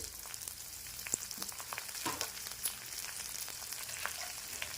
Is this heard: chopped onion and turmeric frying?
yes